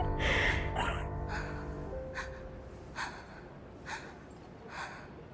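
Voice-acted breathing from the Honkai: Star Rail video game, opening with a sharp gasp and moaning exhale, then a series of slow, evenly spaced soft breaths, close and intimate.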